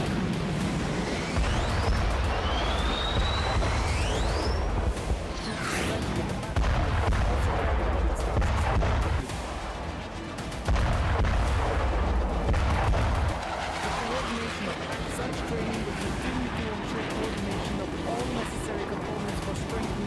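Heavy bombardment during a joint Russian and Belarusian military exercise, with missiles and bombs striking targets: repeated deep booming blasts and rumbling impacts, with a jet whine early on, loud and continuous throughout.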